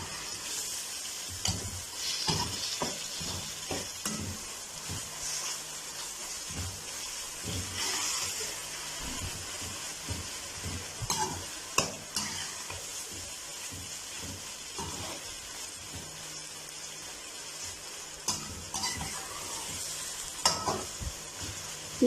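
Mashed roasted eggplant being stirred into frying masala for baingan bharta, with a soft continuous sizzle and repeated scraping of a spoon against the pan, fairly quiet and close, with no talk.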